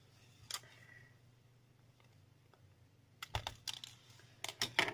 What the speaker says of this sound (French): Et on va découper la petite étiquette.